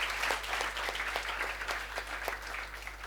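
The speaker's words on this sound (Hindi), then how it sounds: "एक बार जोरदार तालियां आप सब लोगों के लिए" Audience applause for students starting the CA Foundation journey, a continuous dense patter of many hands clapping at moderate distance over a low steady hum, with little talk.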